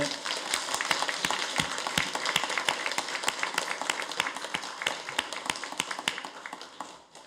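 A church congregation at a Korean Sunday service claps for ailing members, the individual claps sharp and clearly separate at a moderate level, thinning out and fading near the end.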